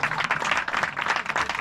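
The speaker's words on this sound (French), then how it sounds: "applaudis-moi pendant que je cherche" Comedy show audience applauds in a brief, dense burst of clapping, steady and fairly loud, with no voices over it.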